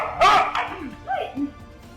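A dog being beaten on a street in Cainta, Rizal gives a sharp yelp followed by several shorter whimpering cries, fairly close, with voices in the background.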